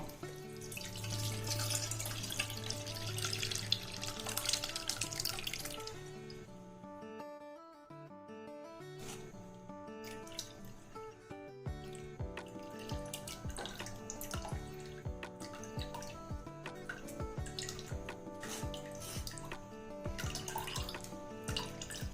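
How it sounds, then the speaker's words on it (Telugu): Tomato pulp mixed with water trickles and drips steadily through a strainer, a soft wet splashing with background music playing throughout. "వాటర్ కలుపుకున్న టమాటా గుజ్జుని ఇలా స్ట్రైనర్ పెట్టి వడగట్టుకుందాం"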